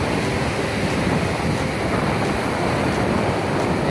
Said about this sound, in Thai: มีคลื่นลมแรงนะครับ